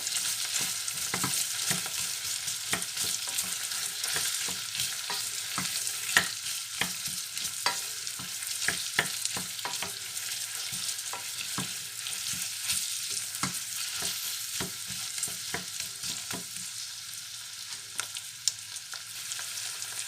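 Onions frying in a pan until golden for a brown onion sauce, giving a steady close sizzle broken by frequent small clicks from stirring, with no talking.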